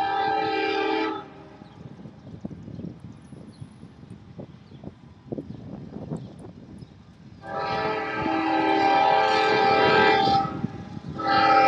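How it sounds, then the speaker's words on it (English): A loud CSX freight train horn blasts, drops away to a rumbling, clattering rail noise, then sounds again in long sustained blasts as the train draws near at Madisonville, Kentucky. "It's a freight train. They'll be here in just a second."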